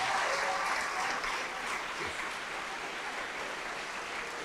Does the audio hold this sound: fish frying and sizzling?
no